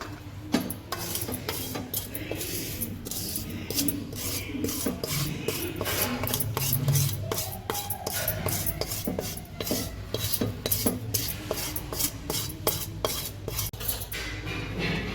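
Semolina (sooji) dry-roasting in a pan for upma while being stirred, repeated rapid scraping and rasping strokes of a spoon against the metal pan, close and busy throughout with no voices.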